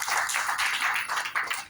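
Audience applause at a direct selling presentation, a steady wash of many hands clapping, fairly faint and continuous with no talking.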